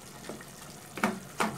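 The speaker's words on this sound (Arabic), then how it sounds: "الميه هنا بزودها تدريجي، مش بنزل بكميه كبيره، لا هزودها تدريجي" Water poured gradually into a cooking pot of meat and onions for a stew, heard as two short splashing pours close by, a brief trickle first and a louder pour near the end.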